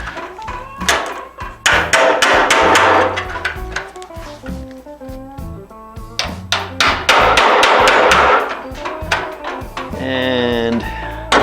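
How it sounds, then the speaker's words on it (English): Sheet metal being hammered on a 1968 Oldsmobile 442 during body fabrication, with repeated sharp metallic strikes in uneven bursts under someone talking. "hammering comes into play a little bit."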